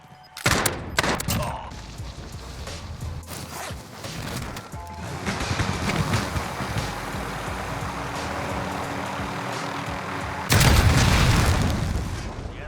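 Rocket explosions in the video game Warzone: a few sharp booms up front, then a long rolling roar of blasts and gunfire, with another heavy burst near the end.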